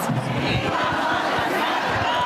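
A protest crowd against Elon Musk chants and shouts together, a loud, dense mass of voices with rhythmic rising cries filling the space.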